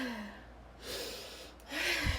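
A voice imitating sighing breathing during fainting: two breathy sighing exhales, each with a soft gasping intake, spaced about a second apart, close and quiet without words.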